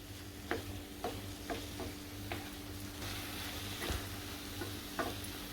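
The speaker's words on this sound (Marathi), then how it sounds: "आता आपण त्याच्यामध्ये टोमॅटो सॉस घालूया. तर मिक्स करून घेते." Tomato sauce being stirred into vegetable macaroni in a pan, with spoon scrapes and taps recurring about every half second over a soft, steady sizzle, close and fairly quiet.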